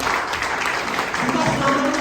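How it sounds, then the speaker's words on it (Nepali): Audience applause at a DXN company event in Nepal: dense steady clapping from a large crowd in a hall, continuous and fairly loud, with a faint voice underneath. "तपाईँ जोरदार ताली बजाउनुहोस्।"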